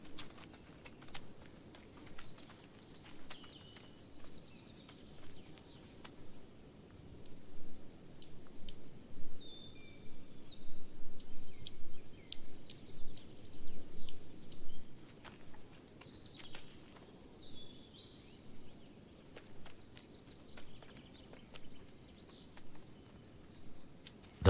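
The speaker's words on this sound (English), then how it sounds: "The large marsh grasshopper pair marches across the wet ground." Large marsh grasshoppers on wet marshy ground, a steady dense insect chirring with many rapid ticks that swells louder midway, alone with no voices.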